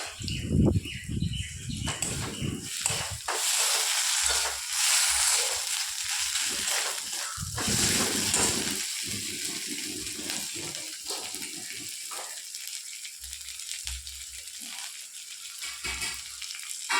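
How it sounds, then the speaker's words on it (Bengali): Garlic and ginger fry in a pan in a home kitchen, a loud crackling sizzle early on that settles into a quieter, intermittent spitting and hiss over the rest of the stretch. "রসুনটা ভাজা হয়ে গিয়েছে। এবার আদা দিয়ে দিলাম।"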